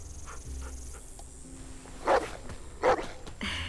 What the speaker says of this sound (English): Oh shit, dog's still here.